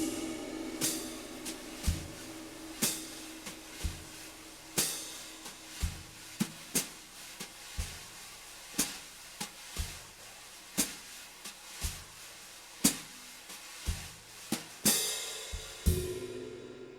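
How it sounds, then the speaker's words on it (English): Vic Firth wire brushes play a slow jazz ballad swing pattern on a drum kit, sharp brush strikes and cymbal-like accents landing at an even, unhurried pulse over a quiet sustained swish, close and without talk. "your right hand can play the swing pattern just really slowly as you do in a ballad"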